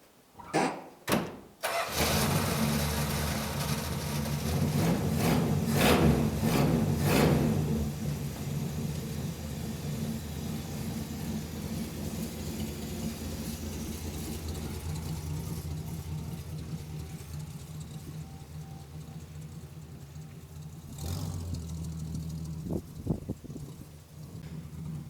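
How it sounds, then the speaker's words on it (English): An old, long-abandoned Plymouth Barracuda engine catches with a few sputters, then settles into a steady, rough idle while warming up outdoors in the cold, with a couple of brief blips near the end. "It's been idling, warming up here for a couple minutes."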